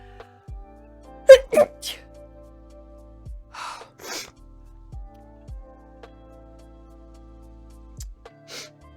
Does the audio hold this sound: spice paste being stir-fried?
no